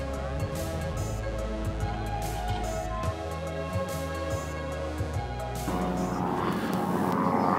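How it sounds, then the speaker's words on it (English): A small light aeroplane takes off at an old airport site, its propeller engine droning steadily with a rhythmic pulsing, then growing louder and rougher as it powers up, with no talk. "A little light aeroplane taking off, which you can probably hear."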